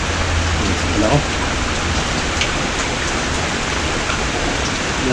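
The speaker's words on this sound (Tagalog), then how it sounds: "Kaso na maulan eh. Maulan." Steady rain falls outdoors as a dense, even hiss that fills the whole stretch, loud and close, with a low hum briefly underneath near the start.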